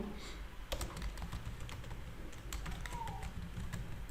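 PHP code being typed on a computer keyboard, quick irregular clicks of keys close up over a low steady room hum, with no talking.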